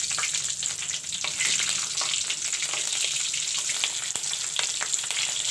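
Two green chilies sizzle and fry in hot oil for a potato and pumpkin curry, giving a steady, close crackle with occasional spatters and stirring.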